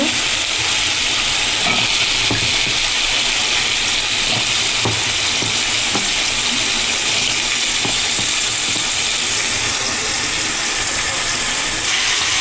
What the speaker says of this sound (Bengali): এভাবে কষিয়ে দিব একটু সময়, তারপরে একটু ঢেকে দিব